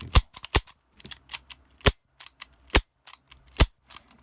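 Parts of a KJW MK2 Ruger non-blowback airsoft pistol snap and lock into place, a series of sharp, close plastic-and-metal clicks spaced irregularly, with a few louder snaps among quieter ticks.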